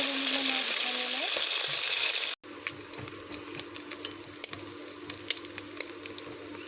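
Tilapia pieces frying in hot oil in a kadai give a loud steady sizzle that cuts off abruptly, followed by quieter crackles and faint clinks with a low background hum.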